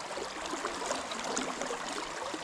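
Fast, high-flowing water of the Goulburn River rushing steadily, a dense continuous broadband roar close by with no pauses or voices.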